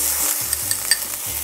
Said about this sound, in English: Now let's add the pounded chilies